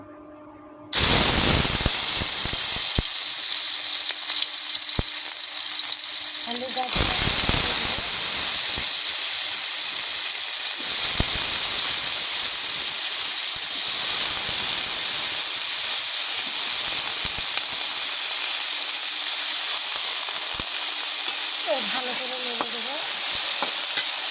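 Potatoes dropped into hot soybean oil in a heated wok, a loud sudden burst of sizzle that settles into a sustained, hissing fry with occasional stirring clatter, no one speaking.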